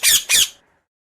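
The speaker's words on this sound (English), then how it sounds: "Parrot is a very beautiful bird." A parrot gives two loud, harsh squawks in quick succession, close and alone, then falls silent.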